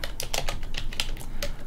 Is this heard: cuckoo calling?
no